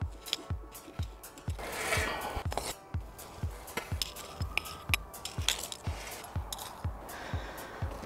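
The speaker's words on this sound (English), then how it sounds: "That is after I finish digging." Garden soil being dug beside succulent plantings, with repeated close scraping and thudding strokes in a steady rhythm and gritty rustling between them, no talking.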